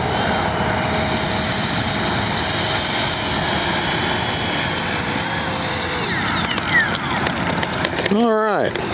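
An RC F-22 Raptor model jet with twin 40mm ducted fans runs on a morning flight, giving a loud, steady whining roar that holds throughout, then swoops and sweeps in pitch near the end as it passes close.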